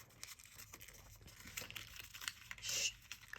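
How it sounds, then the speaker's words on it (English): Sheet of paper being folded and creased while making an origami stingray fighter jet: soft, close crinkling and rustling in quiet, intermittent bursts. "fold this flap into there."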